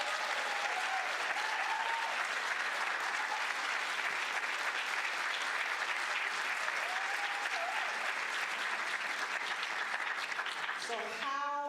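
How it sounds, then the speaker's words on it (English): An audience at a history and culture conference applauds continuously, a dense steady clapping that fills the whole stretch before it tapers off at the end. "another round of applause"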